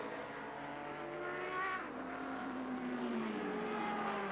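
A Ford Riley sports racer on track at Mid-Ohio during a 2000 Grand Am race, its engine holding a loud, sustained high-revving note with shifting pitch as it runs past.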